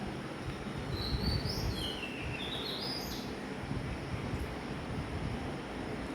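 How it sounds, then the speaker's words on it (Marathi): Birds chirp in a quick run of rising and falling calls early on, then fade into a steady hiss of wind and distant rumble. "तशीच मला वाटतं पक्ष्यांची चर्चा असावी"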